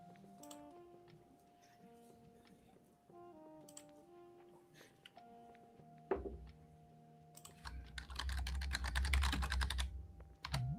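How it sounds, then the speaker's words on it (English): Rapid clattering keystrokes on a computer keyboard, close and fairly quiet, with tonal background sounds early on and a burst of denser, louder typing near the end. "Can you hear my typing, or is that just me?"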